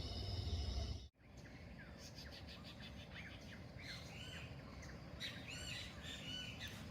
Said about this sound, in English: We woke up to all sorts of nature sounds, birds, chickens, dogs, and this view of the mountain.